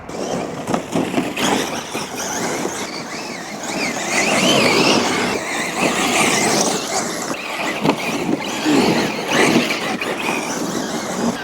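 A big, fast Lancer EVO VI RC car drives hard with a loose battery and tyres rubbing the body, giving a loud continuous squealing, rattling motor whine that rises and falls in bursts for the whole stretch.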